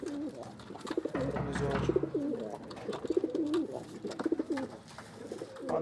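Pigeons coo repeatedly in a rhythmic, throaty murmur close by, with soft bird calls and someone speaking in Arabic over them.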